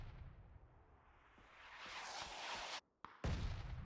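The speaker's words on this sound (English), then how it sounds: "Mortars." Mortar fire in a competitive PUBG match: distant thumps build into a rising rush of noise, then a sudden cutout and a loud blast-like burst near the end.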